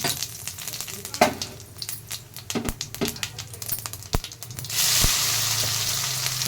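Cumin seeds crackle and sizzle in hot oil in a wok while Marathi-style dill greens are being cooked, with scattered sharp pops giving way to a louder, steady hiss near the end.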